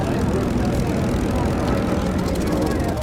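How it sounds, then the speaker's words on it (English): A P-51 Mustang's Merlin engine roars loudly and steadily, its throaty drone filling the air, and a voice can be heard under the engine noise. "Just the sound of that engine, the Merlin engine"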